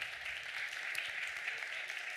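Applause at a cultural heritage conference in Huesca, Aragon, greeting a speaker as he is introduced: steady, dense clapping from a seated audience, moderately loud and continuous throughout, with no voices on top.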